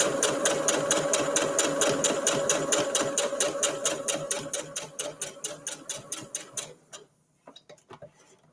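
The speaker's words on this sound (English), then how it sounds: "So I'm stitching directly over that line." A sewing machine runs a fast, even stitch across a Christmas tree table runner, its rapid mechanical ticking close and loud before it slows to separate clicks and stops near the end; no one speaks.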